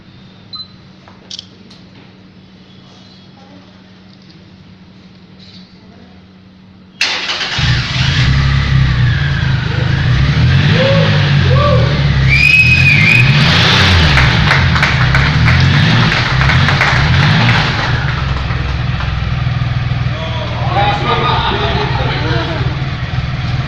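A Triumph Rocket X Limited Edition motorcycle at an unveiling fires up after a quiet stretch of murmuring crowd, then idles and revs loudly several times close by, with people talking underneath.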